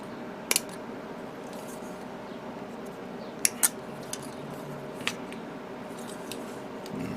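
Sharp snips of nippers cutting a plastic Frame Arms model part off its runner: a few crisp, quiet clicks at irregular intervals over a low room hiss, close and otherwise still.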